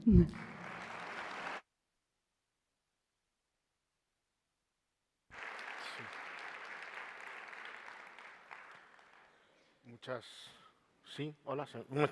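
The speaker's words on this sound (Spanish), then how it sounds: "pues un aplauso para él" Audience applause at a conference talk on the economics of the Beatitudes, a sustained round of clapping from a moderately distant crowd that fades out, followed by a voice speaking.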